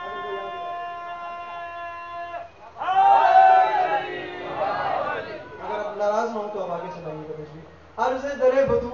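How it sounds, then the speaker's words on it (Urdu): A crowd at a majlis in Faisalabad chants the Naara-e-Haidari slogan together. A held tone comes first, then loud massed voices rise in several bursts of shouting, the last one sharp and sudden. "تو بول سکتے ہیں مل کے نعرے حیدری۔"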